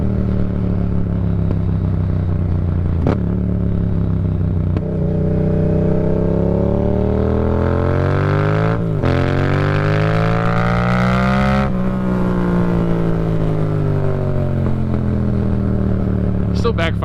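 A Yamaha MT-07 motorcycle, a 2018 model running a new tune, accelerates hard through the gears on an uneven road, its engine note climbing and dropping at each shift, with sharp backfire pops between pulls.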